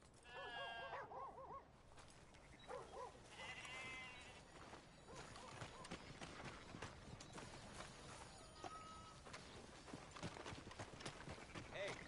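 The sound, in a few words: horse hooves trotting in video game Red Dead Redemption 2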